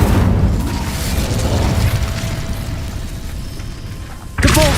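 A fire spell cast in Hogwarts Legacy, a dense booming whoosh of flame and rumble held for several seconds, then a sharp new burst at the end.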